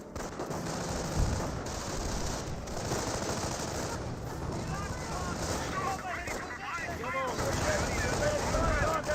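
Rifle squad gunfire crackles through a Company of Heroes battle, with dense overlapping bursts of small-arms fire rattling steadily across the whole stretch while a commentator talks over it.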